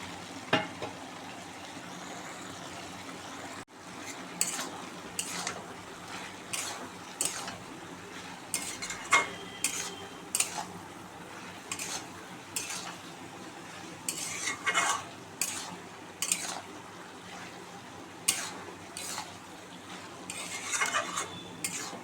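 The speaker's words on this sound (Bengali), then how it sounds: "এবার চিংড়ি মাছ ভাজাটা দিয়ে দেবো।" Fried shrimp and bottle gourd peel are stirred in a pan on a home stove, with a soft constant sizzle under repeated sharp scrapes and clinks of a utensil against metal, spaced irregularly across the stretch.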